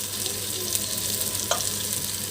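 Ginger and garlic, with tomato, sauté in a hot pan for a biryani, giving a steady close sizzle with a small stirring scrape midway.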